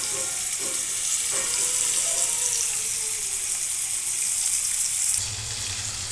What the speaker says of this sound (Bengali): ছেড়ে দিলাম মাছটি। এই যে ভাজা হচ্ছে।